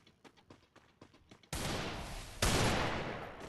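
Desert Eagle gunfire in the Free Fire video game: a few quick light taps, then two loud sustained bursts of shots that fill the rest of the moment, up close and dominant.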